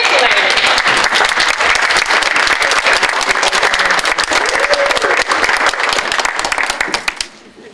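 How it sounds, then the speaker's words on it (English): Graduating students stand and applaud their parents at an online academy graduation ceremony, a loud, dense sustained applause from a large crowd that fades out abruptly at the end. "students, would you stand and applaud to your parents for the part that they played?"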